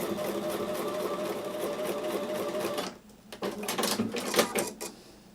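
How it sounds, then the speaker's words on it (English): A home sewing machine stitches a quilt block seam at a quarter inch, running in a steady rapid mechanical whir, then a short pause and a few quicker uneven bursts of stitching, close and clear. "I'm going to take that to the sewing machine and sew with the 1/4 inch seam"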